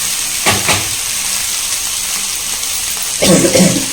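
Chutney ingredients sauté in a hot pan with a steady close sizzle and hiss, broken by a few louder stirring scrapes and bursts of frying, with no talking.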